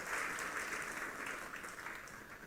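Faint, steady applause from a church congregation, sustained clapping at a distance without any voices on top.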